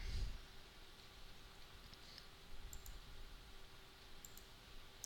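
Faint computer mouse clicks, a few sharp isolated taps spaced a second or two apart against a quiet background hum, with no talking.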